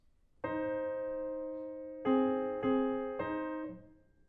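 Four piano double notes played with a fixed wrist sound one after another, the first held long, the rest struck in a slower, even sequence, each ringing and fading in a quiet room.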